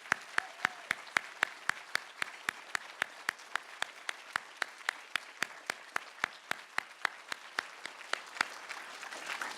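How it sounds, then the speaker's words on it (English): A round of applause from an audience at a session, heard here as a few sharp, evenly spaced claps repeating at a brisk, regular beat, each distinct and fairly close rather than a merged crowd roar. "have a round of applause for the amazing work that Daria and Kevin have done"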